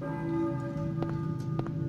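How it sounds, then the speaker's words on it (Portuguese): A bell tolls in Silent Hill 1 on PlayStation, with repeated metallic strikes ringing over a steady low droning hum and sustained tonal layers, moderately faint and with no talk. "Ó, o sino tocando."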